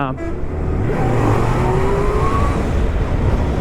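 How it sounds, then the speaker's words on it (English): A superbike accelerates hard to overtake on a road at Chakrata, its engine note rising in pitch through a loud, close roar under steady wind noise, with a voice heard briefly at the start. "Just you open the accelerator, the throttle, and you overtake in less than a second."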